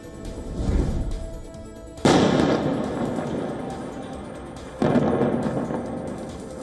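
Two heavy booming blasts from airstrikes on Beirut's southern suburbs at night, each sudden and followed by a long rumbling decay, with lower rumbles before the first.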